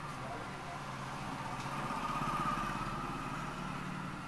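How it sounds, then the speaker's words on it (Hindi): A motorcycle engine idles and pulls away outdoors, a steady mid-pitched rumble under a continuous noisy background. "वो बाइक वाला निकल गया, बाइक वाला डिस्टर्ब कर रहा था"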